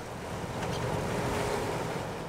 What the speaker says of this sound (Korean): 새벽부터 바람이 세더니 파도의 기세가 심상치 않습니다.